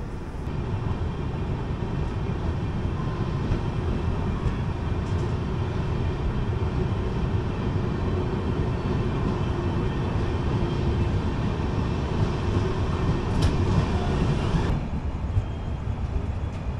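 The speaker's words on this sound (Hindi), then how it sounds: "अब जाके बढ़ रही है ट्रेन आगे।" An Indian Railways train rolls along, heard from inside a 3rd AC coach as a constant, loud, broadband rumble and roar that stays even throughout, with no voices.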